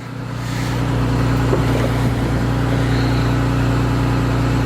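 Infiniti Q60 idling with its stock exhaust before a downpipe install, a steady low droning hum that swells in over the first second and then holds evenly, close and loud with no talk.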